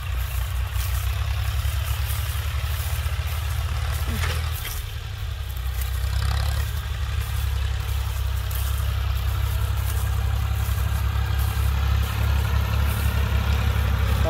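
Two Ford tractors, a Ford 4000 and a Ford 5000, plough a paddy field together, their diesel engines a steady low rumbling drone throughout, with faint wind-like hiss and no clear speech.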